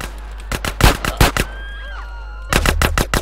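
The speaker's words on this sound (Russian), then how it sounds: "Там тоже какая-то охрана осталась, которая стреляет" Guards open fire with machine guns in the video game GTA San Andreas: rapid bursts of sharp cracks, a pause filled with faint game tones, then another quick volley.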